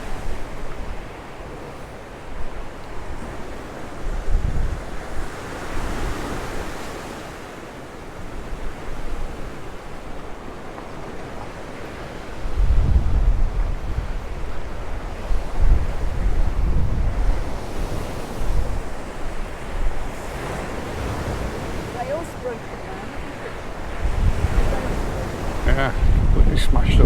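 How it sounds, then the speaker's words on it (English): Rough sea waves surging and crashing on a windy Mallorca coast at Santa Ponsa, with gusting wind buffeting the microphone; swells rise and fall, heaviest bursts near the middle and end, no talk. "the sea does look a little bit mucky, but that's hardly surprising considering the strength of the waves out there"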